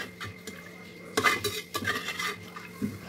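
Cooked avial vegetable pieces tipped from a vessel into a dry cheenachatti, giving clattering scrapes and clinks of metal utensils on the pan in a few close bursts, with quieter handling sounds between.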